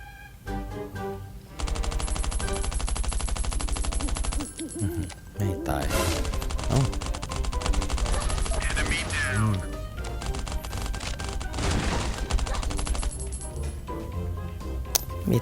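Rapid automatic gunfire in the survival game Last Island of Survival comes in long sustained bursts separated by short pauses, loud and rattling, with a voice talking between and over the shots.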